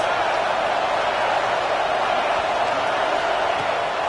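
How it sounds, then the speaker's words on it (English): A college football stadium crowd at a Michigan versus Penn State game roars in a dense, continuous wall of noise, loud and unbroken throughout. "This crowd trying to make life miserable for this offense."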